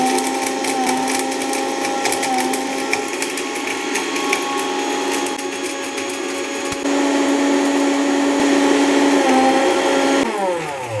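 A multi-juicer mixer grinds cinnamon, cloves, pepper and cumin with a loud, high-pitched motor whine and rattling spices. It runs close and continuous for several seconds, then changes pitch briefly near the end.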